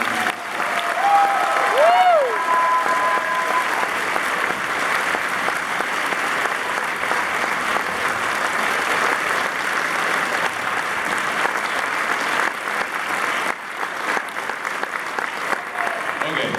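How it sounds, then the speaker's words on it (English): Sustained applause from a large audience honoring a graduating high school class, steady dense clapping filling the hall for many seconds, with a few brief tones heard early on. "can we give a big round of applause for the class of 2015?"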